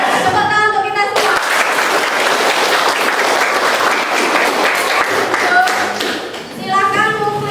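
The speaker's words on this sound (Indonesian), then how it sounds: "Tepuk tangan untuk kita semua" A vocational school class applauding in a classroom, a loud burst of many hands clapping that swells for several seconds, with voices talking just before and after.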